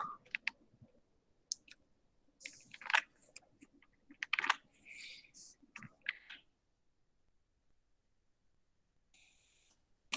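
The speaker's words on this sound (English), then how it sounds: "Okay, we'll type it and see." Typing on a computer keyboard while coding in Python, with bursts of clicking keystrokes from 0 to about 6 seconds, then near silence with a few faint clicks at the end.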